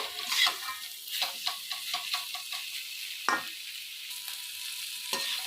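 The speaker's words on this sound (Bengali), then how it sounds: "কিছুক্ষণের জন্য মশলার সঙ্গে ভালো করে যা যা উপকরণগুলো দিয়েছি সেগুলো আমি কষিয়ে নেবো" Pointed gourd, potato and prawns are sautéed with spices in a pan, giving a continuous close sizzle with rhythmic stirring scrapes and a few sharper spatula knocks against the pan.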